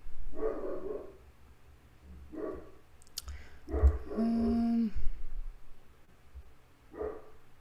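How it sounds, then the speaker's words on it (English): A big 150-pound dog named Harley lets out a few loud barks in separate bursts, spaced a second or more apart, mixed with some sharp clicks and a low steady hum. "Belinda, was it that big of a bark? Because he's 150 pounds"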